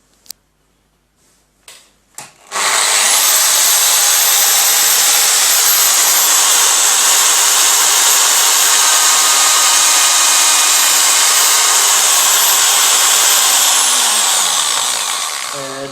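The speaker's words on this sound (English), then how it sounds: "let's go ahead and drill the holes" A drill bores holes in soft aluminum shelving for a snake rack, starting with a few clicks and bumps, then a loud, sustained high whine that runs steadily before winding down.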